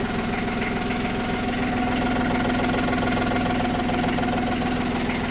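A tractor engine, restarted after a month and a half of sitting idle, runs at a steady close idle with an even low-pitched throb and a faint knocking rhythm, continuous and unchanging.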